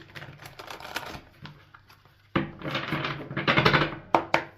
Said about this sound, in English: One more shuffle, I think, for Cancer.